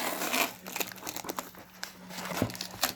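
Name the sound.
sticky tape being peeled while unboxing games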